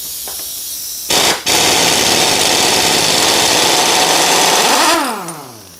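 An old Ingersoll Rand impact wrench rattles hard as it loosens the rear sprocket nut on a Harley Pan America motorcycle: a loud, sustained hammering burst that winds down at the end, close up with no talking.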